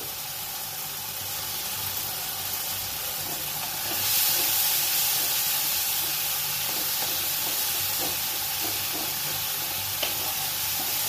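Spices and chopped tomato fry in a pan for an okra dish, a continuous bright sizzle and hiss with scattered crackles and a brief surge of steam partway through, no voices.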